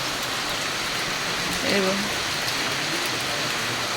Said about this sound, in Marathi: पाऊस पण सुरू झाला आहे